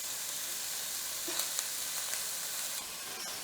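Shrimp searing in a hot pan for seared shrimp and scallops in lemon garlic butter, a steady close sizzle and frying hiss throughout with a few brief crackling pops, no talk.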